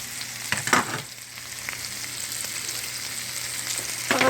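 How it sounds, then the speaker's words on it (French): Mushrooms cooking in a pan give off a soft, steady sizzle, broken by a few louder bursts of stirring or frying near the start and end. No one speaks. "On va laisser les champignons cuire un petit peu."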